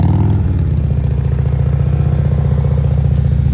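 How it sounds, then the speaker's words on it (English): A Harley CVO motorcycle held at steady throttle while riding slowly, a loud, close, deep engine rumble with a low even pulse that stays constant throughout. "See how you can hear his throttle now?"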